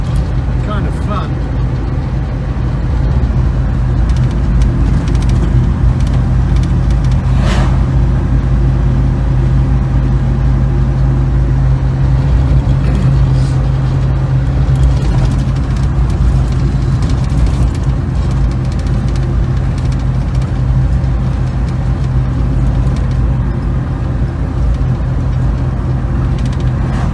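Cabin view of a 1967 Volvo 122S Amazon Wagon cruising along a country road, with a steady low engine hum and road roar filling the interior at constant loudness.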